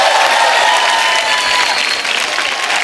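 A studio audience at a television comedy show claps loudly for a tribute to a singer, producing dense, continuous applause that stays strong from start to finish.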